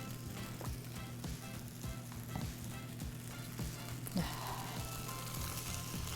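Webfoot octopus and cabbage stir-fry in oil in a pan, giving a steady low sizzle broken by regular scraping, tossing strokes of the spatula at close range.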